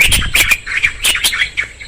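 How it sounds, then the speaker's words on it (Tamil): A bird flies over a small forest pond with tall grass, giving a rapid series of loud, harsh squawking calls close by, repeated in quick bursts with no talking. "பாருங்க ஒரு பறவை ஒன்று பறக்குங்க பாருங்க"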